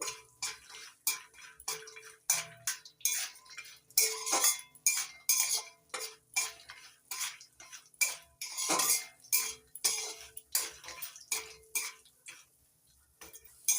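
Dry fruits stirred while frying in a pan, with rapid, repeated metallic clinks and scrapes of a spatula against the pan. The strokes are close and loud, come in uneven bursts, and no one speaks.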